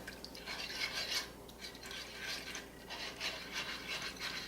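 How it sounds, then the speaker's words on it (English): A small whisk rasps and scrapes against a skillet while breaking up cheese wedges, a steady close-up scratching with repeated strokes throughout, no voices. "I'm using a little whisk here to kind of break them up so they will melt in a little bit faster."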